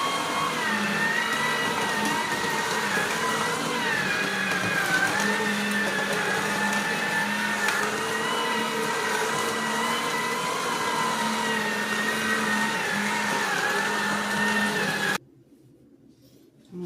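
Juicer machine blending watermelon skin with ginger, a loud continuous motor whine and churning whir that runs steadily, then cuts off abruptly near the end, with no talk.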